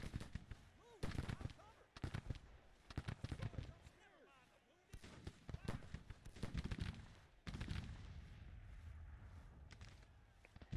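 Musket gunfire from soldiers in the Civil War strategy game Grand Tactician: sharp volleys and scattered shots in clustered bursts, with quieter gaps between them and a voice speaking over parts of it.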